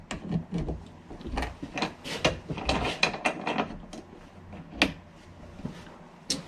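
A ski being clamped tight in a bench vise, a run of close wooden and metallic clicks, creaks and ratcheting knocks in an irregular rhythm, with no voices.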